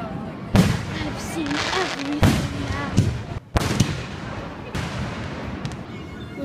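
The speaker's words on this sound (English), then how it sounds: "I'm afraid of fireworks." Fireworks burst in repeated loud, sharp booms spaced roughly a second apart, with crackling in between and people talking underneath.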